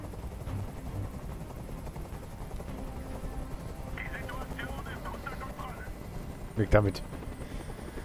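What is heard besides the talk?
helicopter in video game Detroit Become Human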